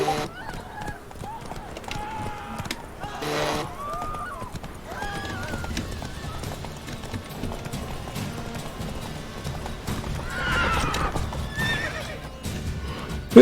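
Roach, the horse in the Witcher 3 video game, whinnies several times and trots with steady clip-clop hoofbeats, while someone talks over the game sounds throughout.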